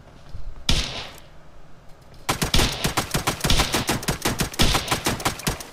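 A gun holding 20 rounds fires in PUBG Mobile: one sharp shot rings out, then after a pause a rapid string of loud, closely spaced bursts rattles on steadily until the end, with no talking.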